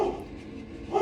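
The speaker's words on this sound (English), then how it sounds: "Sorry about my dog." A dog barks indoors in a short burst at moderate distance, two quick woofs framing a brief muffled pause.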